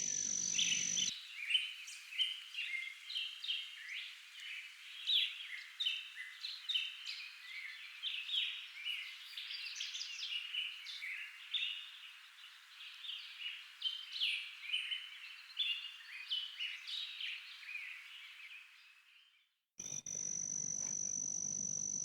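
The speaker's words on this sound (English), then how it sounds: "You hear the birds in the background." Birds singing in open countryside in Goochland County, a dense, steady chorus of high chirps and trills that runs continuously at moderate distance with no talk, then cuts off briefly near the end.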